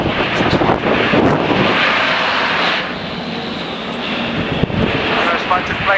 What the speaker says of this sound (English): All gone quiet as the aircraft engines are brought back to idle, and eventually the flaps should be being lowered for the aircraft to come through in a full configuration pass.